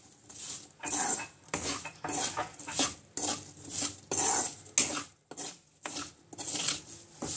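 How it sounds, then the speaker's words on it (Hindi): Green chillies for a spicy pickle being stirred into hot oil and spices in a pan off the heat, with repeated loud metal spoon scrapes and clanks against the pan in an uneven rhythm, close and alone. "अब मैं इसमें ये सब मिर्चें डाल दी।"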